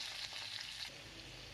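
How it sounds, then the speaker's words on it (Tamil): Chopped onions, tipped into a pan of hot oil with mustard seeds and cumin for a mushroom gravy, sizzle and fry steadily with a bright, dense crackle throughout, no voices. "நறுக்கின வெங்காயத்தை அள்ளி கொட்டி"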